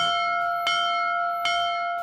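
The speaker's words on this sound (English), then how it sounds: "Can I ring the bell? You can ring the bell." Bell on a vintage 1937 Seattle fire truck rings clearly, three sharp strikes roughly three-quarters of a second apart, each leaving a sustained metallic ring.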